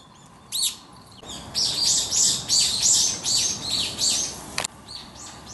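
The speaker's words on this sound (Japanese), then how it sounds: "結構鳥がいます。" Birds in the grounds of a shrine in Hiroshima chirp in a quick run of bright, repeated calls, fairly close and clear over quiet outdoor ambience, with a brief sharp sound near the end.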